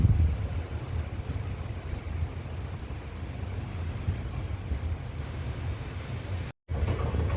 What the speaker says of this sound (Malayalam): ഇരണിയലിൽ നിന്ന് ട്രെയിൻ അങ്ങനെ എടുക്കുകയാണ്.